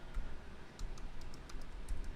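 Rapid typing on a computer keyboard, steady clicking keystrokes running through the whole stretch at moderate volume, close by and alone without talk.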